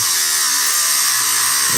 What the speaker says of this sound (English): You'll start sawing through.